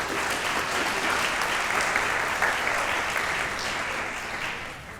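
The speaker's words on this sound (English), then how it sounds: "If y'all give him a round of applause" A round of applause at a Boy Scouts district award banquet, a crowd clapping steadily and fairly loud throughout, tapering slightly toward the end with a few faint voices underneath.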